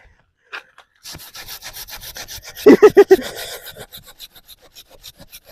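A hand tool saws through a thin piece of wood in quick rhythmic strokes, loud and close, building to several heavy rasping pulls before lighter, even strokes.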